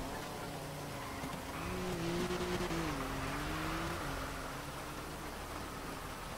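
An S Class car driving in GTA V on a NoPixel roleplay server, engine droning steadily with a wavering pitch that rises slightly as it accelerates, under constant road and wind noise.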